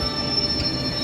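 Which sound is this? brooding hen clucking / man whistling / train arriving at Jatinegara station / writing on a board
train arriving at Jatinegara station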